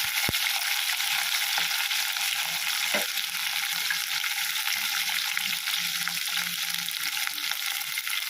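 Cut broad beans sizzle steadily in hot oil in a pan while sambar is being made, a continuous close frying hiss with a few light clicks of stirring, no voices.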